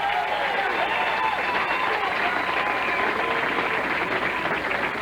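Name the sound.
bowling crowd cheering and applauding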